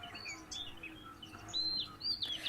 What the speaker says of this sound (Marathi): त्यातील पांढऱ्या छातीची ही पाण कोंबडी